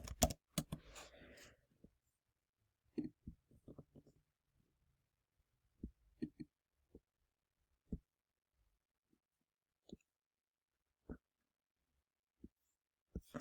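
Sparse keystrokes on a computer keyboard in a lab session: a quick burst of clicks at the start, then single, scattered taps spaced a second or two apart, close and fairly quiet.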